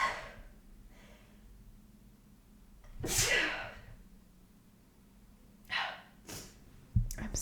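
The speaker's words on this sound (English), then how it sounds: "sorry, I'm going to sneeze." A sharp, loud sneeze bursts out after a few breaths, followed by quieter sniffs and breathy exhales nearby.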